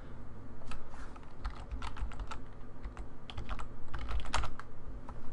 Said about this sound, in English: here you're going to type ipconfig, all one word